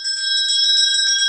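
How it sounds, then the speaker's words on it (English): A bell rings steadily at an inn, a bright metallic trill held loud and close for just over a second, with no talking over it. "So that's the bell."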